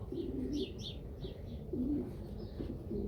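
A champion racing pigeon coos in a close, soft, repeated pattern of low, throaty calls with brief pauses between them, and a few faint chirps come from other birds in the loft behind it.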